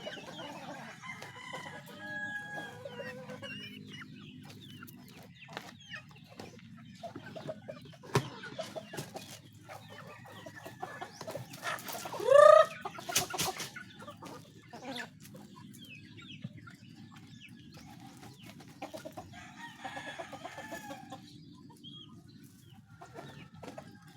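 Chickens on a farm cluck intermittently at close range, with a rooster's loud crow rising briefly in the middle and quieter clucks and rustling continuing around it against a low background hum.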